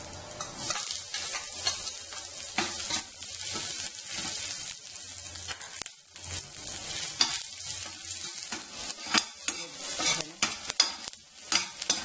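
Garlic and onion sauté in olive oil in a pan, giving a loud, steady sizzle broken by frequent scraping stirs, close up with no talking.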